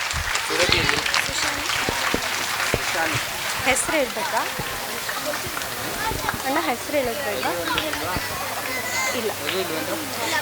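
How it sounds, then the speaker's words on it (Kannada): A school audience at a student event claps loudly for a young girl, a dense burst of applause with scattered voices and chatter running underneath. "ಜೋರಾದ ಚಪ್ಪಾಳೆ ತಟ್ಟೋಣ"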